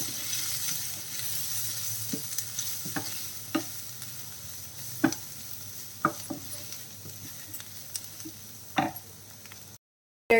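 A spoon stirs spice powders in a sizzling pan for squid thoran, scraping in sharp intermittent clicks over a steady low fry, with no one talking.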